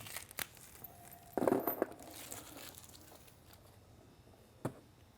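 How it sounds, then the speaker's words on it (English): Plastic bags of lightbar mounting hardware tear open with a short crinkly rip, close and fairly quiet. A few light taps and rustles come before and after. "Go ahead and rip the hardware bags open."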